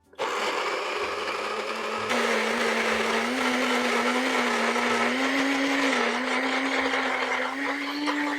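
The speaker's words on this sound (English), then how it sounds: "We're just going to blend this until it's super creamy." A blender whirs steadily, blending creamy vegan vanilla frosting for cupcakes; the motor pitch rises and settles under load, loud and close, running continuously throughout.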